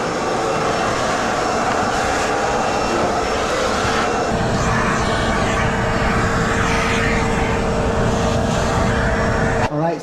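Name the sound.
HEPA vacuum extracting mold spores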